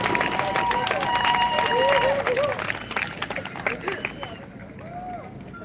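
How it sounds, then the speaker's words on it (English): Applause from the audience at a general election rally in a Singapore school hall: a sustained wash of clapping and crowd noise that peaks early, then gradually thins out, with voices mixed in. "Please give them your round of applause."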